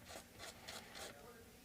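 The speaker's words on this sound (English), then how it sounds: "I want to remove as much epoxy as I can using the blade" A blade scraping hardened epoxy off a wooden guitar bridge, four short rasping strokes in a steady rhythm, close and quiet with no talk.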